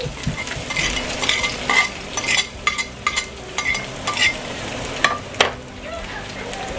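Onions hit a heated pan and fry with a loud, crackling sizzle, broken by repeated bursts of stirring and scraping in an uneven rhythm, close up.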